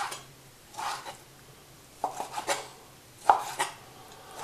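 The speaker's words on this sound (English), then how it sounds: "you take your fish fillets and you'll cut them into thinner strips" A knife cutting fish fillets into thin strips on a board, a few separated chopping taps and soft slicing scrapes, close and clear, with no talking.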